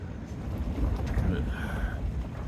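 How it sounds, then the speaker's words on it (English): Strong wind gusts of about 60 miles an hour buffet a winter tent, giving a continuous low rumbling roar and flapping. Someone talks faintly over it. "Now it's currently 60-mile-an-hour wind gusts."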